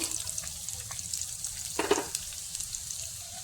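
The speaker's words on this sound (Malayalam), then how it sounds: "എണ്ണ ചൂടാകുമ്പോൾ നമുക്കതിലേക്ക് പകുതി സവാള അരിഞ്ഞത് ഇട്ട് കൊടുക്കാം" Half a chopped onion sizzles in hot coconut oil in a pan, a steady close crackle with one brief louder stir-like scrape partway through.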